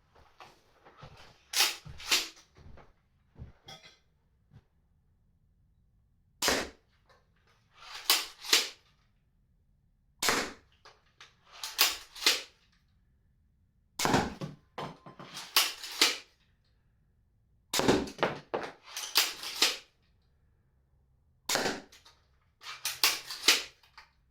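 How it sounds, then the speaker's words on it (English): A Cobra crossbow pistol modded into a tactical carbine fires bolts at a target bag from about five yards, giving sharp snapping releases with thuds and clattering, in irregular clusters separated by quiet pauses. "I'm going to take a few shots at the target bag"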